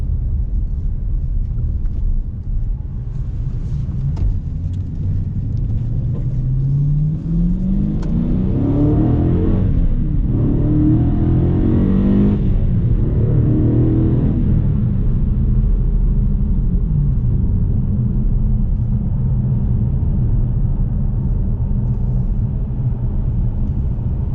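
A 2016 Dodge Challenger R/T Scatpack engine rumbles steadily, rising into a swelling rev around the middle before settling back to a deep idle, loud and close from inside the car.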